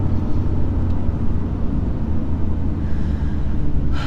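A BMW F80 M3 drives with a steady, loud low engine drone and rumble from inside the car, holding fairly constant without talk.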